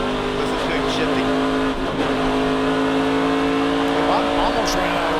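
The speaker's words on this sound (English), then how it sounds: "Listen to him shifting." A NASCAR Craftsman Truck Series race truck roars through its gears at the 2024 championship race, a loud, continuous engine drone with shifting pitch under steady commentary.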